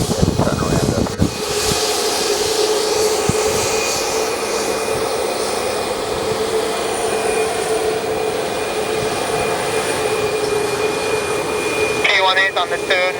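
American Airlines Boeing 737 Max 8 jet departing St. Kitts Airport, a steady broad engine roar building and holding throughout, with air traffic control radio talk over it and chirpy sounds near the end.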